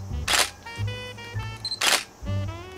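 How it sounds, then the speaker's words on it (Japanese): A Nikon D90 DSLR fitted with an AF-S Nikkor 18-200mm lens fires two loud, close shutter releases about a second and a half apart, each a sharp mechanical clack, with a low hum and tones between them. "シャッターをオンして"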